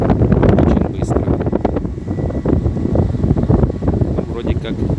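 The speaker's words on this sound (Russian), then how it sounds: "Сильный ветер." Strong wind buffets the microphone on open water during a fishing trip, a loud, continuous roar with gusty surges throughout and faint voices under it.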